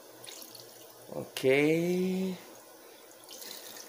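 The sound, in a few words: water running from a tap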